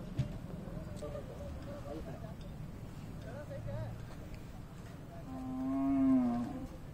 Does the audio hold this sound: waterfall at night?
no